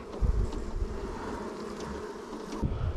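Honeybees buzz around an opened, calm beehive full of queen cells, a close, continuous hum with a few thumps and light wind buffeting on the microphone.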